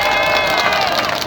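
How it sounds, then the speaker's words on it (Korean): A large crowd claps and cheers continuously at an outdoor political rally in Gwanghwamun Square, Seoul, a dense, loud wash of applause filling the short moment. "우리 허평환 장군님께 큰 박수 부탁드리겠습니다"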